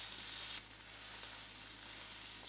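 Prawns stir-frying in a hot pan give a steady, bright sizzle that holds evenly throughout, with a slight shift partway as they are moved, no voices.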